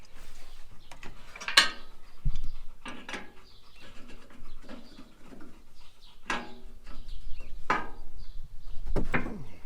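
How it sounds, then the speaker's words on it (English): A ratchet loosening two nuts on a tailgate outdoors, with scattered bursts of clicking and clanks at close range between pauses, and bird calls in the background. "gotta loosen these two nuts here."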